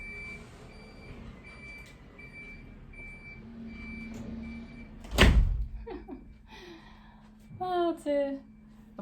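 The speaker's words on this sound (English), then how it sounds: "I'm just going to shut the door because that's really distracting." An indoor door is pushed shut with a single loud thud, standing out above a low background hum and a steady beeping; a brief voiced sound and some louder noise follow afterwards.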